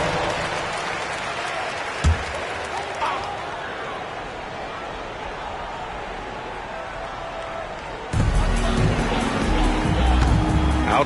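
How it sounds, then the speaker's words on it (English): A large basketball arena crowd at a Rockets versus Clippers game claps and cheers, a steady wash of applause that swells suddenly louder partway through, with a commentator's voice mixed in. "Give yourself a round of applause."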